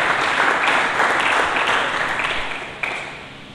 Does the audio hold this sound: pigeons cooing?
no